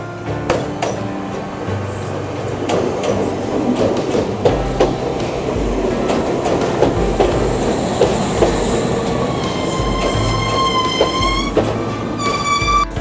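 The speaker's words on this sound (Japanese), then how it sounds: "列車が入ってきました。" A Kintetsu train pulls into a station, with rhythmic clickety-clack of wheels over rail joints, low rumbling, and rising squeals of wheels and brakes as it slows near the platform.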